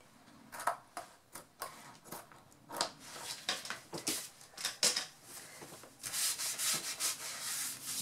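Paper being cut by hand for a handmade album, a string of soft, close snips and rustles in an uneven rhythm with quiet pauses between strokes.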